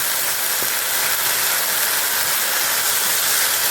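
Potatoes with onion, turmeric, salt and green chilli frying in a pan give off a loud, steady, even hiss of sizzling oil throughout, with no talking.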